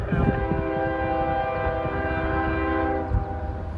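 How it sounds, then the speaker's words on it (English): A Norfolk Southern freight train with locomotives passes close by, its horn sounding a long, steady blast over the rumble of the engines and cars, loud and continuous throughout. "Eastbound Norfolk Southern."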